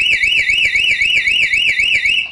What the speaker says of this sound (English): And as you'll hear, it makes enough noise to scare off a burglar.